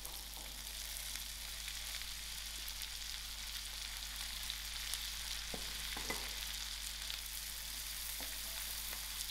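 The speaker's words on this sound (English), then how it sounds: "I'm going to add in my onions to it." Onions frying in melted butter in a non-stick pan, a steady close sizzle with fine crackling and a few soft clinks of stirring, even and continuous without talk.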